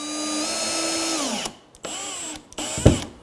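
Power drill driving sheetrock screws into plywood while fastening two pieces of a wooden boat's false bottom: a steady whining motor run that winds down, then a short pause and a brief second burst, close and loud.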